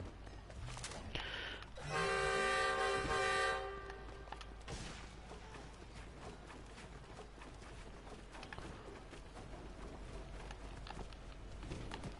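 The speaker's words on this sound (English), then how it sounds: "Do we go for the train?" A train in the Fortnite video game sounds a loud, sustained horn blast of about two seconds, layered tones over steady rumbling game ambience that continues faintly afterward.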